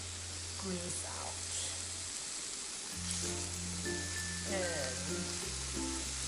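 Pork belly frying in a pan over medium heat, a steady close sizzle and hiss running continuously beneath a person talking.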